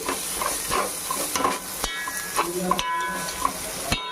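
Turmeric and garam masala being stirred in a hot pan with oil while cooking chicken fry piece biryani, a steady loud sizzle with spoon scrapes and clinks against the pan.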